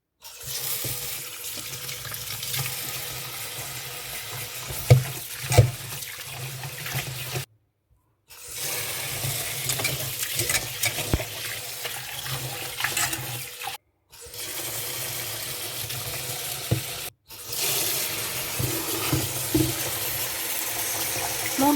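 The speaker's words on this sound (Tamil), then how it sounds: "தண்ணியில் கழுவிட்டு ஊற வைக்கணும்" Three kinds of rice for appam are washed by hand in a bowl of water, with continuous close sloshing and swishing and steady running water, broken by a few short pauses, and no talking.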